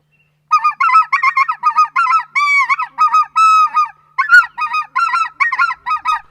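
A rapid series of high, yelping specklebelly goose calls, a voice imitating geese, in quick bursts with short gaps, loud and close.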